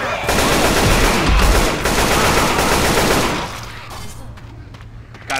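Sustained rapid automatic gunfire in a video game, loud and dense for about three seconds before easing off, with a shouting voice over the shooting.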